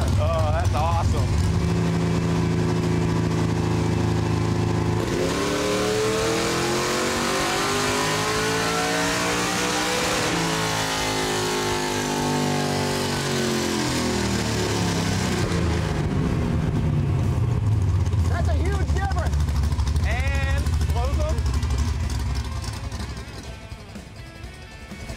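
A Ford Granada sleeper's engine revs hard through open headers, climbing in pitch over several seconds, then easing back to a rough idle, with voices talking underneath.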